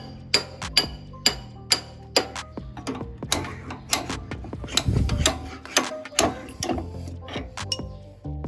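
A socket wrench ratcheting on the front axle bolt of a Honda Activa scooter, giving repeated sharp metallic clicks and clinks in an uneven rhythm, close and fairly loud.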